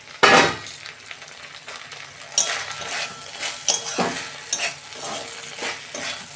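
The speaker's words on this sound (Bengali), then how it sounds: "ঢ্যাঁড়স আমার ভাজা হয়ে গেছে" Okra frying in a kadai after being seasoned with salt and turmeric and briefly covered, giving a steady close sizzle broken by scraping stirs and occasional clinks of a utensil against the pan.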